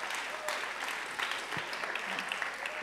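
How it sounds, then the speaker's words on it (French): Distant applause from a lecture audience at an ESSEC conference, a steady patter of many hands clapping, fairly faint and continuous throughout. "on peut l'applaudir"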